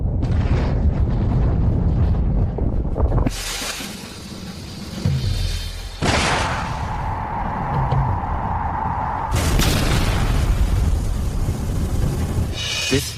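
Aerial bombs dropped by an airship fleet burst in a string of loud booming explosions, each blast followed by rumbling debris and a lingering roar, with sharp new detonations about every three seconds.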